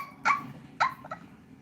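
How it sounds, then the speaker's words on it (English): Two sharp barks from a dog, then a quick softer yip, fairly close against a quiet indoor background with no talking. "okay, there's a dog."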